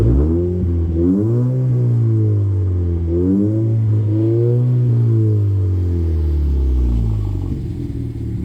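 A 2017 Lexus IS 200t engine revs up close and loud, with two rising sweeps of throttle over a steady deep idle rumble.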